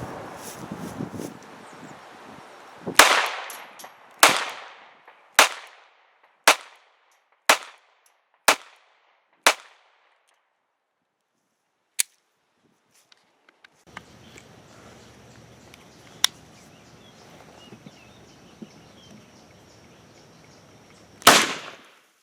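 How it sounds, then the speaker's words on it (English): A Taurus 709 Slim 9mm pistol fires outdoors, with about ten sharp, loud reports at a steady pace, then a long gap with wind noise, a few distant pops and one last close shot. "we'll shoot the rest of these out"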